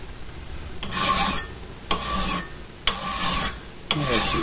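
Four long, gritty strokes of a file rasping across a hand-forged steel knife blade, evenly spaced and close, each a harsh scraping sweep.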